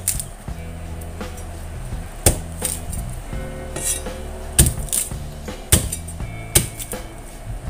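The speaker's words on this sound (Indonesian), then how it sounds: "Ini jagungnya kita potong-potong seperti ini saja." Corn being chopped into pieces with a knife on a board while sayur asem bening is made, giving a series of irregular, sharp knocking chops with scattered clinks, close and fairly loud.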